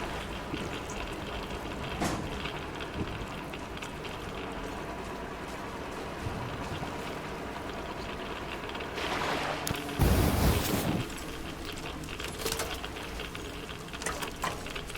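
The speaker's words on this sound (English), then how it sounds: "Drains the water." In Metro Exodus, water drains after a switch is thrown, a faint, steady rushing and trickling wash. It swells briefly into a louder gush near the middle, then settles back.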